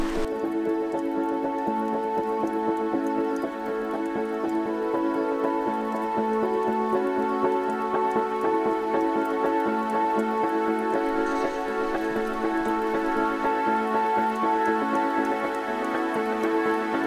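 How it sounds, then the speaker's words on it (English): Steady rain patters and drips around a 4x4 campsite, with a continuous even wash of drops and occasional louder splats, close and unbroken, no talking. "listening to the sound of the rain"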